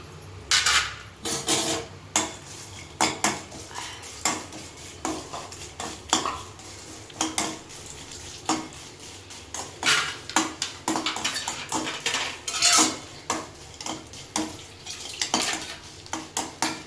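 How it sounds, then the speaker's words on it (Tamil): Dry red chillies roast in a pan for a country chicken curry masala, heard as repeated metal spatula scrapes and clinks against the pan over a faint dry sizzle. "வரமிளகாவும் வறுத்து எடுத்துக்கலாம்"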